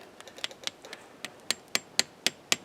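A hammer taps a metal sap spout into a maple tree with a series of sharp, fairly close strikes that come in irregular rhythm and grow louder toward the end.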